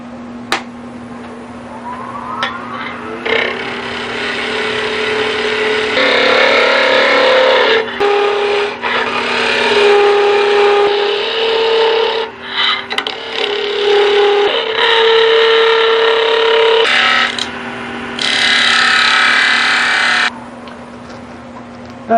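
Wood lathe turning a backscratcher handle, the tool cutting in a loud, continuous whine with the pitch and scrape shifting through several passes and brief breaks as the middle is narrowed.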